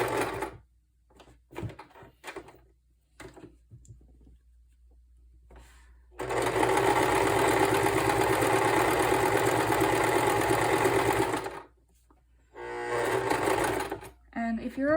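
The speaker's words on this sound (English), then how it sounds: "We're gonna keep the needle inside the fabric, lift up the foot, put the needle back, we'll put the foot back down, another corner," Sewing machine stitching pillow fabric, running in one long steady burst and a shorter one, close and loud, with a person talking in the gaps between runs and the machine stopping at corners.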